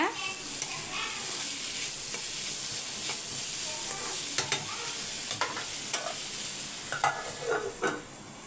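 Potatoes sautéing in a pan give a steady, close sizzle, with scattered clinks and scrapes of a spoon stirring through them and no voices.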